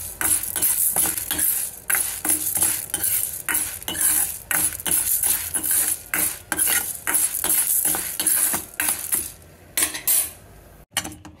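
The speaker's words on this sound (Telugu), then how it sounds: "వీటిని డ్రై రోస్ట్ చేసుకోవాలి." Ingredients for curry leaf podi dry roasting in a pan, a spoon repeatedly scraping and stirring with rhythmic metallic clinks and a light sizzle, close and fairly loud.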